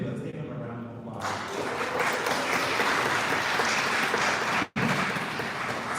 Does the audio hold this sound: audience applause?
yes